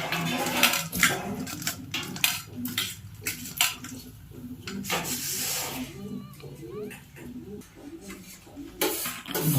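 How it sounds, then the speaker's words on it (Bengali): Cut potatoes being washed in water in a metal pot, with irregular scraping, rubbing and knocking of pieces against the pot in short bursts, close by, with a voice speaking at times. "আমার আলুগুলো কাটা হয়ে গেছে, জল দিয়ে ধুয়ে নিতে হবে একটু।"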